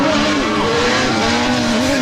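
B.F. Goodrich off-road racing tires skid with a sustained, high-pitched squeal that wavers slightly in pitch over two seconds, loud and alone.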